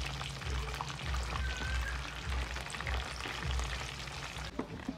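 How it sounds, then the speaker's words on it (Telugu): A small piece of chicken frying in a home kitchen pan, a steady crackling sizzle with soft spattering pops running throughout under a low rumbling background, no talking. "ఇది కొంచెం ఫ్రై చేద్దాము."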